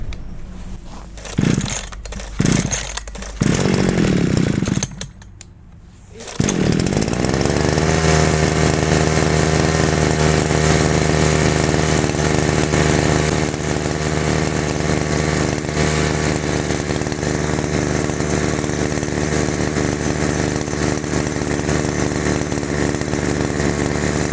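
A Stihl petrol grass trimmer with a freshly replaced carburetor is primed and started, with a few sputtering attempts followed by the engine catching and running at a loud, steady buzzing idle.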